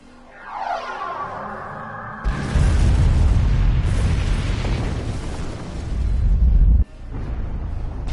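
Starship weapons fire in a Star Trek space combat game: a rising sci-fi sweep breaks into a heavy, sustained rumbling explosion with booming bursts, then cuts off abruptly into continuing low rumble.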